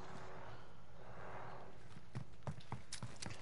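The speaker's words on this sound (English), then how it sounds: "I hear people unless that's your footsteps" Footsteps in Call of Duty: Warzone, a run of soft, evenly spaced thuds and scuffs, quiet and muffled beneath a steady wash of background ambience.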